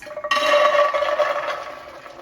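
Water pours into a large pot of dry beans, a bright continuous splashing stream that starts abruptly and fills the pot, close and fairly loud, with no talking.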